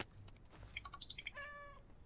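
A cat in the video game Water Delivery gives a short, clear meow near the end, preceded by a few soft clicks and brief tonal chirps over a quiet background.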